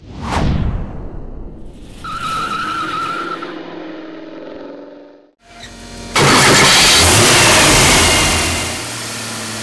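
A Jeep straight-six stroker engine on a dyno cranks, revs and holds a rising whine, drops briefly, then surges into a loud sustained high-rpm roar.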